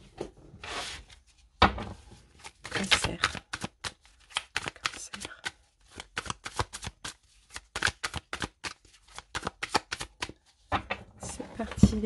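A tarot deck is cut and shuffled by hand, giving rapid crisp riffles and card slaps in bursts with short pauses, close and clear.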